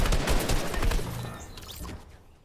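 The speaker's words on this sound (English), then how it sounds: "someone's shooting you." Rapid gunfire in a Fortnite match, a dense volley of sharp shots that is loud at first, then thins and fades toward the end.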